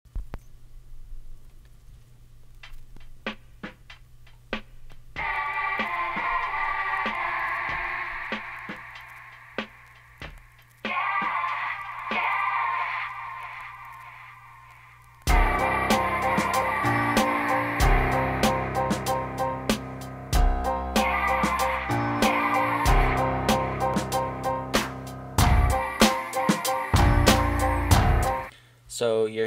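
Hip-hop beat assembled from Logic stock samples: sparse clicks and a low hum open, a melodic sample layer enters around five seconds, then a loud full beat with heavy bass and drums kicks in halfway and runs to the end.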